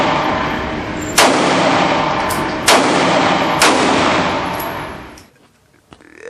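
A Smith & Wesson M&P Shield 9mm pistol fires about four sharp, loud shots at uneven intervals. Each crack hangs in a long, echoing decay before a brief quiet at the end.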